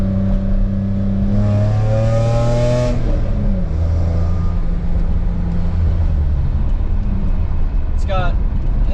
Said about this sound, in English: It's got headers, full custom exhaust, sounds pretty good